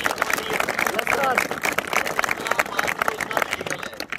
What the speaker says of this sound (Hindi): सबसे पहले तो ताली बजाओ